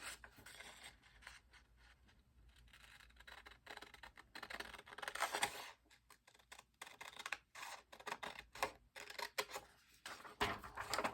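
Scissors snip through printed paper along gray corner cut marks, a run of close, soft clicking cuts in irregular bursts with short pauses between, no talking.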